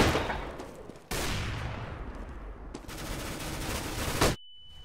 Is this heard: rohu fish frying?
no